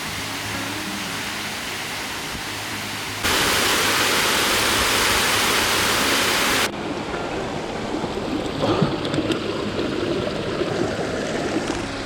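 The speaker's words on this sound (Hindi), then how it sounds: "और ये वाटरफॉल आ गया है।" Mountain waterfall at Barshangarh near Sainj in Himachal, a loud constant rush of falling water that swells sharply for a few seconds before settling back to a steady roar.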